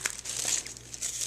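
Tissue paper being folded over into layers for a paper flower, giving close, brief crinkling and rustling bursts in quick succession.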